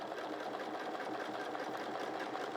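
A domestic sewing machine stitches quilting without free motion, giving a fast, even mechanical whirr that stays steady and fairly quiet throughout.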